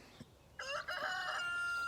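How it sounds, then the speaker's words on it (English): A rooster crows once on an acreage farm, loud and close: a short cluck, then a long, strained cock-a-doodle-doo that holds to the end, no talking. "I can't keep my rooster because, he's so noisy"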